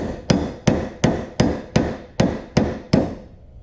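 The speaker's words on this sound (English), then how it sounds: "Give it a couple whacks." Eight sharp, evenly spaced hammer whacks ring out on a coin ring auto punch, each a loud close metallic strike with a short decaying tail, struck with a steel hammer in place of a brass one.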